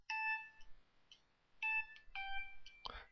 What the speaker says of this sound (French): Désolé, c'est mon téléphone.